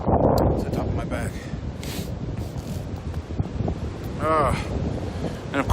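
Gusting wind buffets the microphone on a mountain hiking trail down from Blood Mountain Shelter, a steady roaring rumble with brief swells throughout, close and loud.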